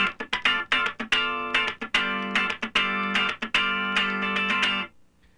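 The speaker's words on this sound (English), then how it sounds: "let's play a rhythm part that has a little bit longer tone with the left hand" A funk rhythm part on electric guitar mixes sharp percussive chord strikes with longer held tones. It plays close and loud, with a steady syncopated groove and no talking, and the last chord rings out briefly.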